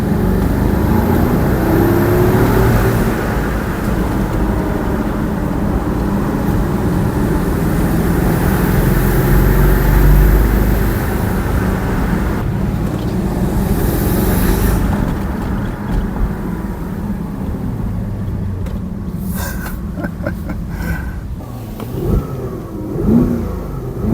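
Porsche twin-turbo V8 accelerating hard on gravel, a loud, close engine roar building steadily with continuous gravel noise, then dropping off toward the end with a few short bumps and knocks.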